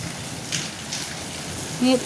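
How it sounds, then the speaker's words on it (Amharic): Rain falls steadily outdoors as a soft, even patter, fairly faint, with a few louder splashes or knocks and no clear voices. "ዝናቡ እግዚኦ አሁን ዝናብ መሽቷል። ዝናብ ሆኗል።"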